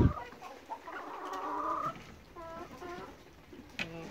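Cream Legbar hens on a smallholding cluck in soft, faint, stuttering bursts, rising into a drawn-out call and then short repeated clucks, heard outdoors without talk.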